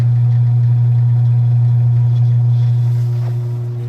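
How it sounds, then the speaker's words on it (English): A single-speed drum motor inside a Leslie X77P speaker runs with a steady low hum and droning mechanical tone, loud and close, easing slightly toward the end. "Our single speed motor for the drum"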